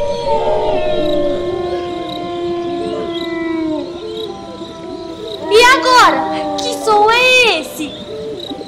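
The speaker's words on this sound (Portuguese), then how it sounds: "Esse é o som de um lobo. E agora ele está uivando." A wolf howls in long wavering tones during a camping scene, rising and bending in pitch over a steady chorus of insects, with sharper swooping calls near the end.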